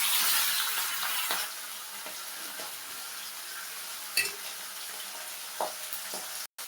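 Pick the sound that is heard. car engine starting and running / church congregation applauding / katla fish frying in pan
katla fish frying in pan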